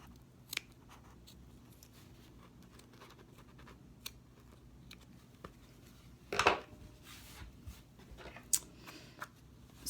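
Scissors snip and trim fabric around an opening while a turn lock is being installed, with a few quiet, sparse cuts and one sharper close snip partway through, faint against a soft room hiss.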